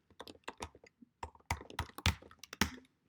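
Quick bursts of keystrokes on a computer keyboard, irregular clusters of crisp clicks with short pauses between them, close and clear, no talking.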